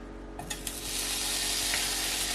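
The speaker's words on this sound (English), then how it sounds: "I'm gonna start by adding some butter" Butter sizzling as it melts in a hot pan at the start of a breakfast casserole, a steady close frying hiss that swells after a brief quieter opening and holds throughout.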